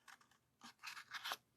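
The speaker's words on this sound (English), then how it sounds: "The scissors are just cutting." Scissors snipping through paper during detailed fussy cutting for a card, several short crisp cuts in quick bursts, quiet and close with no talking.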